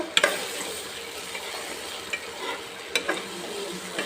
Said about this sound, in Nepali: मसरुम यतिको फ्राई भयो, हेर्नुस् त